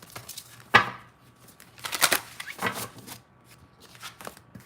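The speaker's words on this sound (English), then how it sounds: "I'm still shuffling for your question, Sugary." Tarot cards shuffled by hand on a table before a paid live reading, giving a sharp riffle burst followed by softer, uneven shuffling rustles close to the mic.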